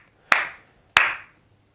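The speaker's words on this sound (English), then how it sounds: "you just start clapping" Two sharp hand claps about half a second apart, close and loud, each with a short ringing tail, out on a street with no talking.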